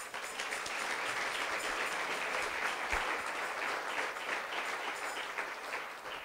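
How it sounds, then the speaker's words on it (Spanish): Church congregation applauding the Lord during a Spanish-language sermon by Pastor Hugo García, a sustained, even roar of many hands clapping that holds steady for about six seconds before easing slightly at the end. "Denle un aplauso fuerte al Señor."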